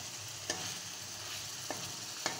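Egg curry masala frying in oil in a home kitchen pan: a steady hiss of sizzling with three sharp spatula scrapes spaced out against it, close and fairly quiet, with no voices.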